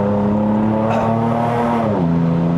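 A Lexus RC350 V6 on a mountain road run to Genting, Malaysia, gives a loud, sustained engine drone heard from inside the car, its pitch shifting near the end as it downshifts with a throttle blip.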